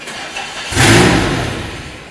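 A DeLorean engine with a throttle body fault cranks and catches, a sudden close burst of engine roar that swells and then fades toward a rough idle.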